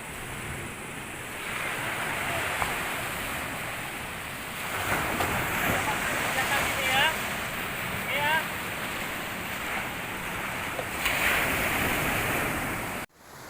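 Large ocean waves break against rocks along a rocky shore at Lamno, producing a steady, loud roar of surf with wind rushing across the microphone and occasional heavier surges throughout.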